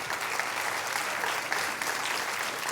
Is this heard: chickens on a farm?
no